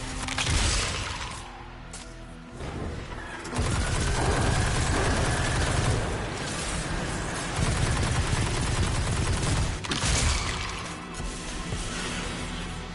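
Dense, loud bursts of automatic gunfire and explosive impacts fill a Destiny 2 battle against the Hive, with sustained volleys broken by brief lulls.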